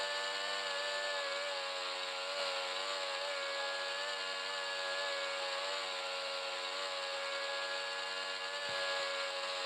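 Racing car engines in a formula racing video game make a steady, loud, high-pitched whine that stays constant throughout, with no talking.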